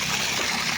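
At night, water gushes from a burst pipe in a steady broadband rush, close and constant through the short stretch without voices.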